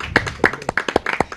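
A small audience gives a short round of applause for a performer on a radio-style program, a handful of close, distinct hand claps at an uneven rhythm, brief and fairly loud.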